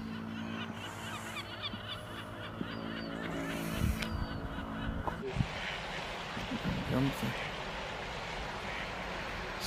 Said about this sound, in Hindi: बतखान उन्होंने आवाज़ सुनो माशाल्लाह जबरदस्त